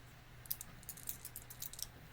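Dice rattle and click against a hard surface in a tabletop baseball simulation game, a quick scatter of faint, sharp ticks spread over a couple of seconds with no voice.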